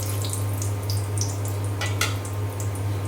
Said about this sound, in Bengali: তেল গরম হয়ে গিয়েছে, আমি এখন এই যে দিয়ে দিলাম আস্ত জিরা